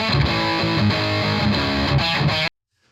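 Heavy distorted electric guitar riff captured through a Sennheiser MD421-II dynamic microphone, loud and dense with chugging palm-muted rhythm for about two and a half seconds, then stopping dead into silence.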